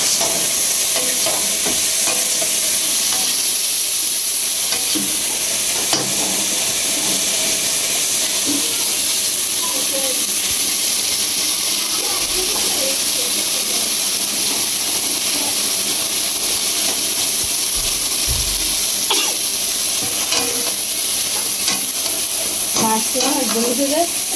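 Food frying in an oily kadai on a gas stove, a steady loud sizzle and hiss with occasional scraping of the stirring spoon throughout.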